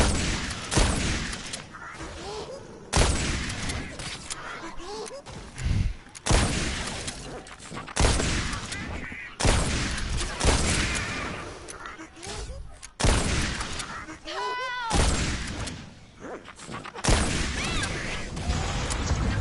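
Rapid volleys of gunfire ring out in the 1992 video game DemonSlayer, with bursts of shots and crashing impacts clustered in loud chunks and brief gaps between them, while a voice talks alongside.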